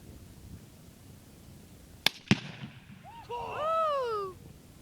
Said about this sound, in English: That is quite an explosion.